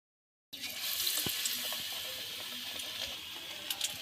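Eggplant fritters (beguni) dropped into hot oil set off a sudden, sustained bubbling hiss that holds steady, with a few faint clicks near the end.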